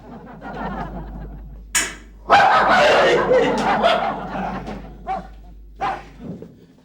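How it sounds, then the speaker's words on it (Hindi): A neighbour's dog barks in scattered loud bursts, with a longer stretch of rough yapping in the middle, and faint chuckling around it in a domestic setting. "ये पांडे का कुत्ता अपने आप को समझता क्या है?"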